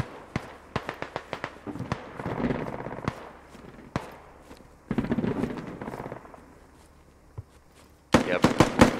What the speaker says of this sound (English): There's an AK fire,